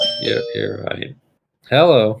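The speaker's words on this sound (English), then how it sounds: "Sorry, that was just my doorbell." A home doorbell chimes in brief ringing tones beneath people talking, heard during a live tornado outbreak stream.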